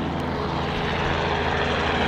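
A loud, constant rotor and engine roar fills the air without a break as a helicopter flies close overhead in New Zealand.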